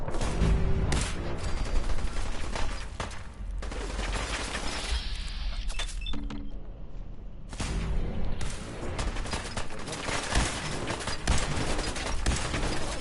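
Rapid bursts of SMG fire in the Fallout 4 video game, dense loud rattling volleys with short gaps, plus scattered impacts and a quieter pause midway before the firing resumes.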